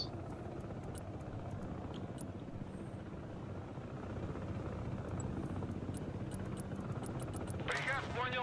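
Osprey tiltrotor aircraft in the video game Broken Arrow, a steady rumbling rotor drone that builds slightly louder midway, with a voice briefly speaking at the end.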